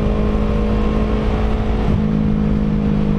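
A Yamaha R3 motorcycle engine held at a steady droning pitch as it rolls on the throttle through a corner, with a brief dip and shift in tone near the two-second mark, loud and close throughout.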